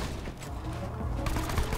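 Gunfire in the video game Borderlands 2 comes as a brief loud burst of shots mixed with game noise, growing a little denser toward the end.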